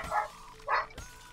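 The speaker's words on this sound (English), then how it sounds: "Sounds like a dog." A dog in the video game Payday 2 barks twice, short mid-range woofs spaced apart, followed by a brief thud.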